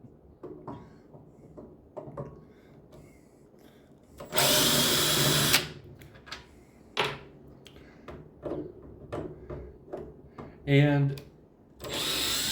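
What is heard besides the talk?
electric drill removing screws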